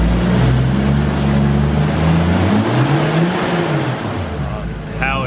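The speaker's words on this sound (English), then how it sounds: "Just gonna give it a little bit of a throttle." A Nissan Skyline R34 engine revs up close and loud, its pitch climbing and wavering as turbo boost builds, then easing off at the end.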